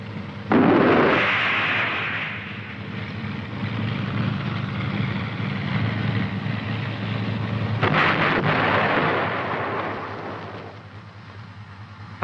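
An M551 Sheridan light tank's main gun fires with a single heavy blast, followed by a long rumbling roar that trails off, and a second loud burst comes around eight seconds in.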